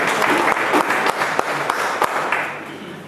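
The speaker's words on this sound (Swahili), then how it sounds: "Mupigie neno la Mungu makofi." A church congregation claps during a Sunday service: loud, dense applause from many hands fills the room, then gradually thins out toward the end.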